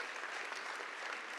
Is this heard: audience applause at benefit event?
yes